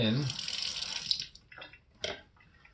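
Cold tap water pours steadily into a blender for a plant-based morning shake, a loud continuous gush that stops after about a second, followed by a few softer splashes and trickles.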